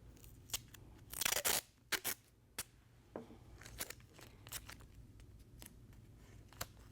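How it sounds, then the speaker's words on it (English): Tape pulled off a roll and pressed onto quilting fabric, heard as a close sharp ripping burst followed by scattered soft crinkles and taps in a quiet room. "So I'm going to start by taping down my fabric"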